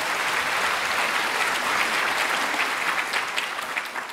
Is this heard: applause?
yes